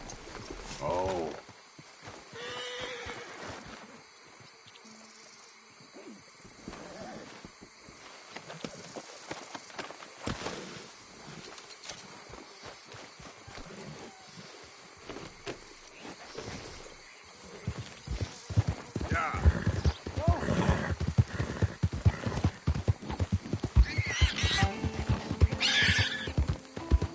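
A horse in Red Dead Redemption 2 neighs and whinnies while hooves clip-clop steadily nearby, with outdoor ambience and some talk; the hoofbeats grow louder and busier toward the end.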